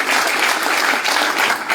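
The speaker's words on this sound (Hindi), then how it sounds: "उन सभी के लिए एक तालियां तो बनती हैं" A seated audience at a business development programme in Kolkata applauds their senior leaders. The brief, even burst of many hands clapping is fairly close, with no talk over it.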